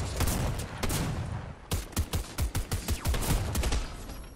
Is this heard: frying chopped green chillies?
no